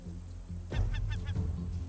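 A short burst of four or five harsh, nasal gull squawks from a video game, rising over a low humming background drone, close and fairly loud.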